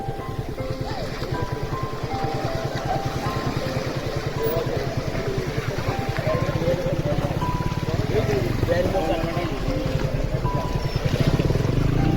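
A motorboat chugs steadily across a haor wetland in place of a ferry, its engine a close, even rhythmic throb with water wash, while people talk over it.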